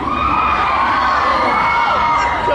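A lively audience cheers and whoops loudly, with high-pitched shouting voices that sound like children and teens, a sustained dense roar filling the whole stretch.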